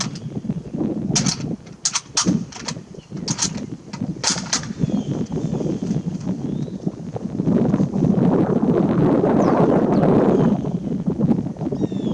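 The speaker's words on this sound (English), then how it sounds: "I've got a little wind coming off my right shoulder here, coming out of the south" Wind from the south buffets the microphone in gusts outdoors at a sniper range, rumbling and rushing, strongest toward the end, with a few sharp clicks early on and no voices.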